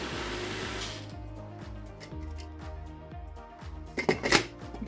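Kitchen blender processing eggs, nutmeg and raw spinach, a rhythmic stuttering whir with repeated pulsing chops, fairly close, ending in a few sharper clattering bursts.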